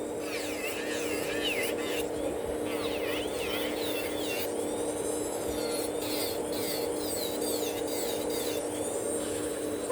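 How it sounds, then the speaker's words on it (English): An electric nail file grinds gently on gel nail extensions near the natural nail, giving a steady close whirring buzz with a shifting, rasping grind throughout. "We are almost at the natural nail, so I'm filing really gentle now."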